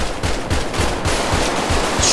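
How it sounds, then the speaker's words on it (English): Rapid automatic gunfire from a police roleplay video game, a dense, loud, continuous volley of overlapping shots filling the whole moment with no speech. "Shots fired, 9327."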